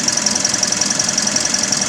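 A 2017 Toyota Vios engine with an overheating problem runs steadily up close, a continuous mechanical drone with a fast, even ticking pulse and a high whine on top, with no talk.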